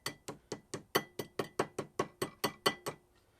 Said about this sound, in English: So if I just tap right there, it'll mark it so I can punch it out.